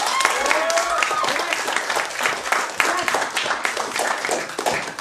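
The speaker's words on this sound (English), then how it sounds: "Let's give him one more round of applause." Audience applause for a contestant at a Minute to Win It game night, brisk, loud clapping from a lively crowd with some voices calling out over it.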